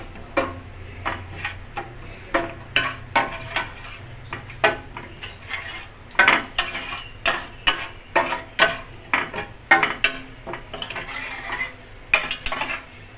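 Katla fish being mixed with sour yogurt and salt in a bowl, with a spoon clinking and scraping against the bowl in a quick, uneven rhythm of sharp taps, close and clear.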